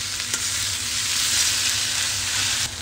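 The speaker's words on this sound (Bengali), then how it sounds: "এটা একটু ভালো করে ভেজে নেব যাতে আদা রসুনের গন্ধ ভাবটা চলে যায়" Chopped green chillies with ginger and garlic fry in hot oil for chicken noodles, a loud, even sizzle holding steady throughout with an occasional soft tap of a utensil.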